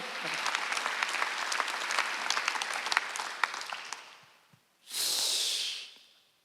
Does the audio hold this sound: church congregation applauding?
yes